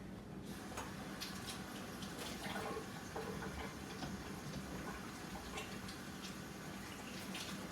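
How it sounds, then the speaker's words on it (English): Water running steadily from a tap while hands are washed beneath it, a constant hissing flow with faint splashing and small knocks, fairly quiet and close, no talking. "I'm gonna wash them real fast."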